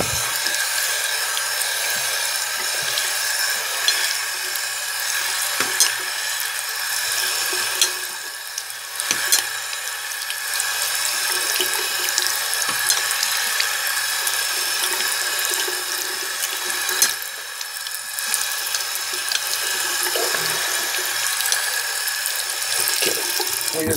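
Steady running water from a tap, a continuous broadband hiss with small splashes and clinks, no voices.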